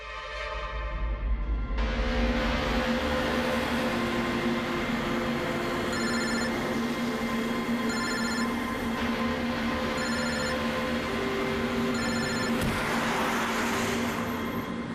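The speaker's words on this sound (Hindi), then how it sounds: "कब से लैंडलाइन पे फोन कर रहा हूँ सर, फोन ही नहीं उठा रहे" A landline telephone rings unanswered in regular two-second bursts, four rings in a row, over a steady low hum of a moving car interior.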